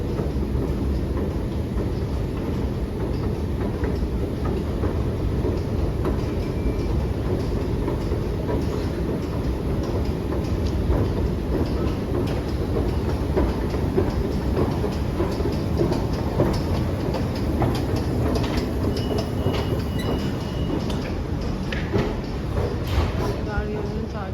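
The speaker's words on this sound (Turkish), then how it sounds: "Şu an metroya doğru iniyoruz. Sesi geliyor sanırım." A metro train rumbles steadily through an underground station in Istanbul, arriving and departing, its rolling noise and rail clatter filling the space while people talk faintly in the background.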